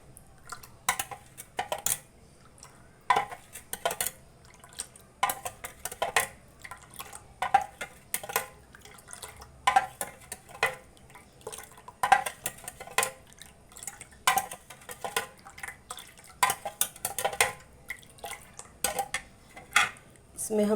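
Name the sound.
stirring a basil seed sharbat drink in a vessel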